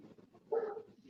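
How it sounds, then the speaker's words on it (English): A dog gives a single mid-pitched bark or yelp during a thunderstorm, fairly close and brief, rising out of quieter background noise. "stop barking at the storm"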